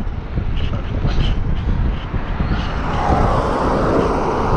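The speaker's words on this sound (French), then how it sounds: "Là, il y a pas mal de vent" Rough wind buffets the microphone in a steady, loud roar while riding a bicycle, with a low vehicle rumble underneath and no speech.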